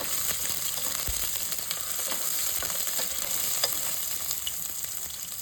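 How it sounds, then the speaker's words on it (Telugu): Oil sizzles steadily in a pan as tempering spices fry for an okra dish, with small crackles and pops scattered throughout, close up and with no voices. "ఇప్పుడు ఈ పోపు అంతా బాగా వేగాలండి"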